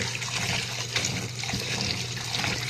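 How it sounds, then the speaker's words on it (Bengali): Chopped papaya pieces are washed in water in a home kitchen, giving a continuous splashing and running-water rush with faint clinks, close and steady for a few seconds. "এখন এখানে ধুয়ে নিতেছি"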